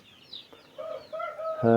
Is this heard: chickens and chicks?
yes